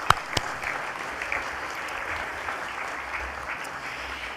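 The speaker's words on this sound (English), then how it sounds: "Let's give them a round of applause as well." Room applause at a university homecoming banquet and awards evening, welcoming the university president and his wife; a broad, steady wash of many hands clapping, with a couple of sharper claps near the start.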